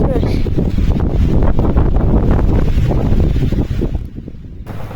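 Strong wind roars across a steep mountain trail during a storm on Mount Merbabu, a loud continuous buffeting rush with gusty swells that drops off briefly near the end.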